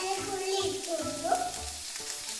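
Onions fry in oil in a pan with a steady, soft sizzle and occasional stirring, close by and quiet throughout.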